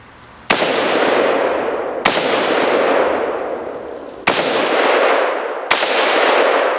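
Four rifle shots strike a steel target, each a sharp, loud crack followed by a bright metallic ring that fades over a second or two. The shots come at uneven intervals with nothing else heard.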